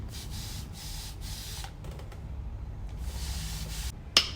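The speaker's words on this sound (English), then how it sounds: "You spray it with water" Several short hissing bursts of a spray bottle misting water onto curly hair, spaced out with quiet pauses and faint rustling between them, close by.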